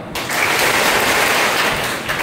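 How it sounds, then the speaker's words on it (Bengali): A roomful of students breaks into steady, dense applause that swells quickly, holds evenly for about two seconds, then tapers off near the end. "ওকে, হাততালি দাও।"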